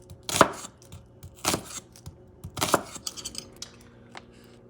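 A knife chops onion on a cutting board for a bison meat sauce, giving three distinct sharp, close thuds spaced about a second apart, followed by softer scraping and light taps.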